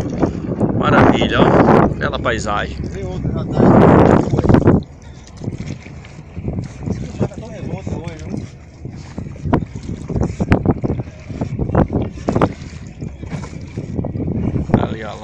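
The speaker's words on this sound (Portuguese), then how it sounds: "Mais uma lancha ali, ó, se aproximando." A motorboat approaching on the sea drones under heavy wind buffeting on open water while someone talks over it.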